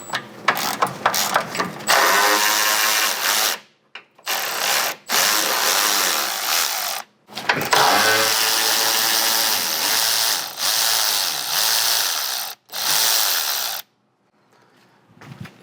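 Power tool, likely an impact driver, spinning off 12 mm and 17 mm skid plate bolts under a 3rd gen Tacoma, in several loud bursts with short gaps between them, close up and without talk.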